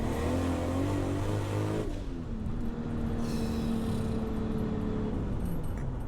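A tuned Toyota Supra with a 3.4L engine roars loudly, then the revs drop and settle into a throaty idle with a rough rumble.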